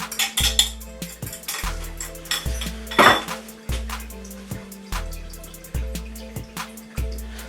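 A spoon stirs whisked egg into gingerbread batter in a bowl, giving repeated knocks and scrapes against the bowl at a steady rhythm, close and fairly loud, with no talking.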